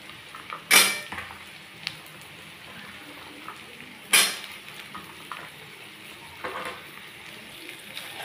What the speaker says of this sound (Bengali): আলুগুলো দিয়ে আমি এটাকে পুরো আলু আর পেঁয়াজটাকে একটু ভেজে নিচ্ছি।